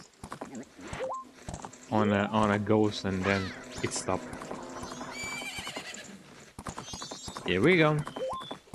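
Epona's hooves clip-clop steadily in The Legend of Zelda: Majora's Mask, with whinnies and game chimes mixed in, while a player talks over the gameplay.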